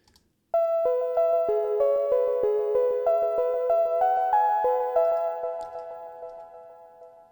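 A soft bell melody from a song plays alone as a steady sequence of clear, ringing single notes. The notes sustain and overlap, then fade slowly toward the end, with no voices.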